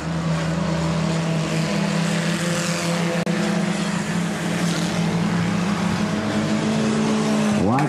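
Pure Street race cars on an oval speedway, a dense continuous engine roar from several cars droning together at distance, with a rising pass-by at the very end.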